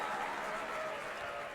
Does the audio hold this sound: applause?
yes